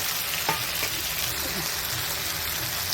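Kasuri methi frying in a pan of butter chicken masala, a steady close sizzle with a few soft stirring scrapes and no talk.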